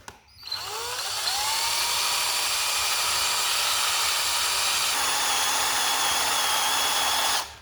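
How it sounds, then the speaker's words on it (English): A power drill bores into a flywheel on a 283 engine, a loud, steady high-pitched whine that starts after a brief spin-up and runs continuously for about seven seconds before stopping. "Anyway, let us drill this."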